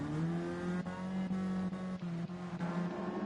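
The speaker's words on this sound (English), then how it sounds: "Kyle slams on the brakes" A CASCAR stock race car in Gran Turismo 7 at Suzuka brakes hard, its engine note holding a steady loud drone and dipping briefly as the driver lifts, with no talk over it.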